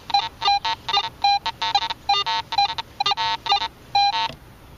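A Garrett AT Pro metal detector fitted with a 5x8 search coil gives a run of sharp, tonal beeps, short bursts repeating in a choppy rhythm with brief gaps, loud and close, alone without talk.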